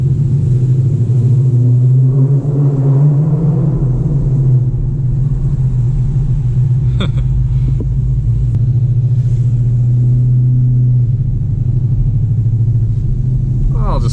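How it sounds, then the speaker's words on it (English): Deep, steady engine rumble of a Dodge Charger R/T heard from inside while driving, loud and continuous with slight changes in pitch as the throttle shifts, and a few light clicks over it. "This car is so deep sounding"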